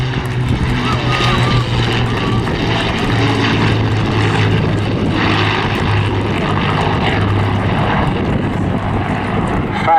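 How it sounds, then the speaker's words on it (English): Battle of Britain Memorial Flight aircraft, a Spitfire, a Mark IIC Hurricane and a Lancaster, fly over at the Southport Airshow 2022. Their propeller engines make a loud, steady drone that lasts throughout. "Spitfire, PZ-A65 Mark II-C Hurricane, and the Lancaster. The Battle of Britain Memorial Flight."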